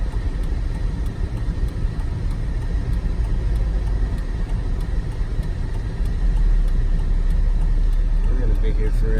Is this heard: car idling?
yes